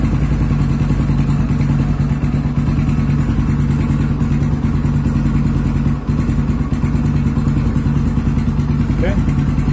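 A Yamaha Scorpio Z motorcycle engine idles steadily and close by after a clutch plate replacement, with an even, smooth throb and light mechanical clatter throughout.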